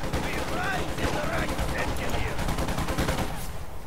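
Gunfire from a Company of Heroes 2 match on a summer farm map: dense, continuous bursts of rifle and machine-gun fire with battle clamor, loud throughout and mixed with shouting voices.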